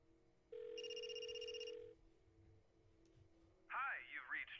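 A telephone rings from inside a dustbin in a video game: one long electronic ring burst, a pause, then a voice starts talking, all heard fairly faintly.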